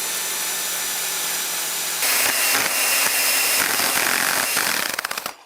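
Power screwdriver driving A71 screws to assemble a bioclimatic pergola kit, a loud steady buzzing whir that starts abruptly and runs for several seconds before winding down, with no talking.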